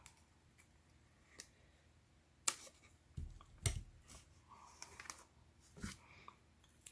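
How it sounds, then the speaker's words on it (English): Paper being trimmed near the edge for a handmade stamped slider card, heard as a few sharp, separate snips and clicks with quiet gaps between them, close and fairly soft. "I am going to just trim it right near the edge"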